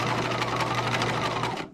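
A sewing machine runs a short back stitch on a dress, a fast, steady mechanical whir with a rapid needle rhythm that stops abruptly at the end.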